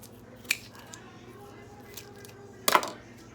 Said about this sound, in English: I always gotta use these scissors to open